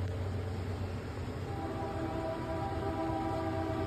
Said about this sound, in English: listen to the train go by.